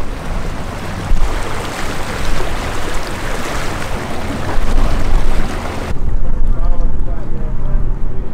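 An electric boat running at top speed on open water, its motor nearly silent beneath steady wind buffeting and rushing water and spray, loud and continuous, with the wind noise easing slightly toward the end.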